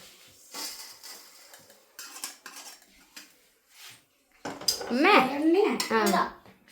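Pots and metal utensils clatter and scrape as a peanut sweet is transferred into a vessel in a home kitchen, scattered light clinks building to louder clanking near the end, with a voice talking over it.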